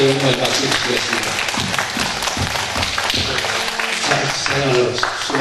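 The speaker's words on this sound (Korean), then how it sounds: "함께 영광의 박수 드리겠습니다." A church congregation at an evening revival service claps together loudly and steadily, a dense wash of applause with thumps and voices mixed in.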